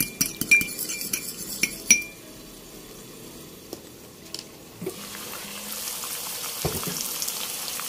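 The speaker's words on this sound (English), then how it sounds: "I'm going to break the eggs inside the milk, and I'm going to stir this. Lightly beating." Eggs being stirred and lightly beaten in milk, with a few sharp clinks of utensil on bowl early on, then quieter scraping and kitchen background noise, with no talking.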